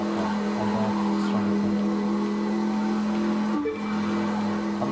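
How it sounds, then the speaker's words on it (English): A car in the racing video game The Crew 2 accelerates continuously, its engine a steady loud drone with a constant hum, briefly dipping near the end, and no talk over it. "I'm accelerating the whole time."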